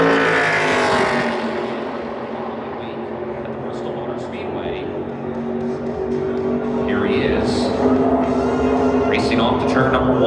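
A NASCAR Craftsman Series truck roars through a qualifying lap at Phoenix Raceway, its engine droning loud and steady with shifting pitch as it drives into a turn, under an announcer's continuous commentary.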